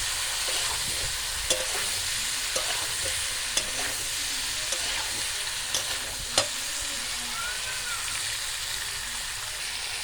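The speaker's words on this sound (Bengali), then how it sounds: "দিয়ে সবজির সঙ্গে খুব ভালো করে কষিয়ে নেব" Vegetables with ginger-cumin paste for a village-style cauliflower and paneer curry sizzle steadily in a pan while being stirred, with a few sharp scraping clicks of the spatula scattered through.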